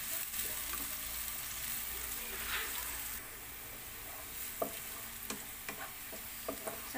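Ingredients cook in oil in a pan until translucent, with a steady hissing sizzle throughout, and then a series of light stirring clicks and taps added over it, close up and at moderate level.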